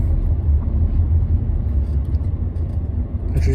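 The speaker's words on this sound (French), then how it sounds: "Je suis bien dans le bus." Low steady engine rumble and road noise inside a moving Ukrainian bus, continuous and fairly loud.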